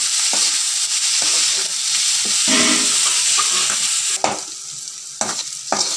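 Onions fry with salt in a pan, a loud, dense sizzle that fills the whole stretch, punctuated by spatula scrapes and stirring knocks that grow more distinct toward the end.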